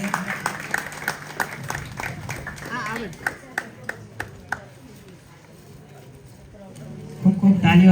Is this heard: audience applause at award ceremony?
yes